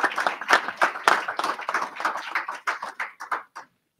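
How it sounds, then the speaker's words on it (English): An audience at a Kentucky governor's press update applauds a company CEO. Scattered hand claps come from a modest crowd, fairly near, and thin out to silence within a few seconds. "let's give him a big round of applause"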